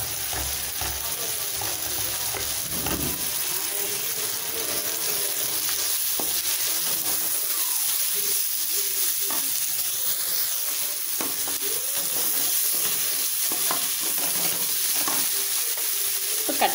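Vegetables fry steadily in a pan for semiya kichadi. The hiss runs continuously throughout, with occasional stirring clicks and no talking.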